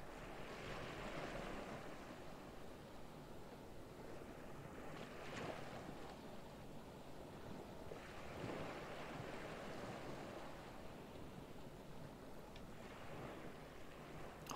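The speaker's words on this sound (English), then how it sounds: "I can hear water. Like the crashing of waves of the ocean." Ocean waves crash in the video game Mystery of Caketropolis, a faint, continuous wash of surf with a few soft swells rising and falling, alone without voices.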